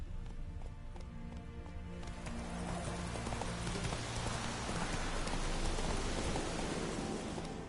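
Hooves of a horse galloping in The Witcher 3 video game, a fast rhythmic clip-clop under a dense, rain-like wash of ambient noise, moderately loud.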